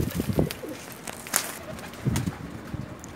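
Pakistani pigeons coo in low, throaty repeated bursts close by, with wing flutters and faint rustling between calls and no speech.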